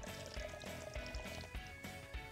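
Water poured and sloshing into a mix for a concrete slab, a soft, continuous splashing with small bumps and gurgles, fairly quiet and close by.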